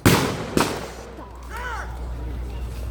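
Two sharp gunshot bursts at the start, evoking machine gun fire at a D-Day bridge battle reenactment, then fading echo under distant tonal sounds and faint voices.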